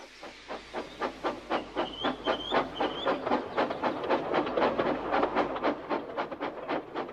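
A steam train chuffs in steady rhythmic puffs that gradually quicken, with a brief whistle-like tone early on over constant hissing.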